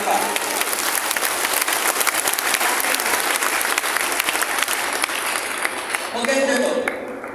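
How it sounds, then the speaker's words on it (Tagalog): A church congregation at an anniversary service applauds steadily, the dense clapping filling the room at an even level before easing off near the end. "ituloy natin yung ating palakpak"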